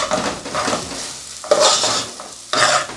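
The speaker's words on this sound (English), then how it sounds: "fry it for like 2 to 3 minutes and you're done." African salad ingredients fry and get stirred in a pan, a steady close sizzle broken by scraping stirs that swell in louder bursts near the middle and end, with no talking.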